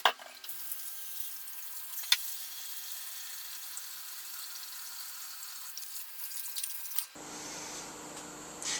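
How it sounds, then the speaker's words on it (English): Water runs from a kitchen sink tap during washing up while cooking a cheesy turkey meatloaf, a steady close hiss of flow lasting about seven seconds before shifting to a different, duller splashing texture near the end. "I'm going to go wash up"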